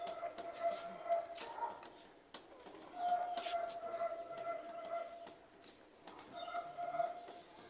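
Soft cooing of black Sialkoti pigeons repeats on and off in a quiet space, with faint rustling and distant murmurs in the background.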